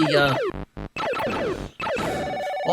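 A phone ringtone plays a bright, melodic electronic tune in short bursts, with brief gaps between phrases, loud and close.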